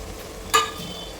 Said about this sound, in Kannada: ಇದಕ್ಕೆ ನಾನು ಟೊಮೊಟೊ ಹಾಕ್ತಾಯಿದ್ದೀನಿ.